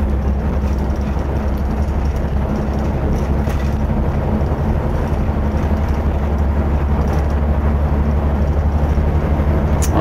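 An Irisbus Crossway coach's engine runs at a steady, loud low hum inside the vehicle, droning evenly with no voices.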